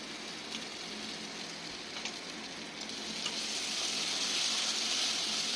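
Spice paste frying with onions in a pan gives a steady hissing sizzle that grows a little louder toward the end, close and continuous, with no talking.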